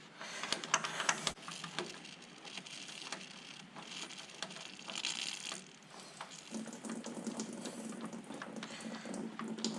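A steady trickle of diesel flows out as the fuel system of a Farmtrac 60 tractor is bled, a faint continuous splashing stream with small metallic clicks early on.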